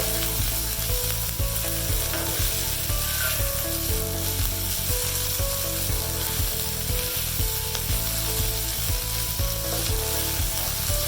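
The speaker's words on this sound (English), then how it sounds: "And I'm going to let this cook for about another 5 to 10 minutes by itself" Mutton roll filling sizzles loudly and steadily in a pan, a dense continuous frying hiss with a regular low pulsing beat running beneath it.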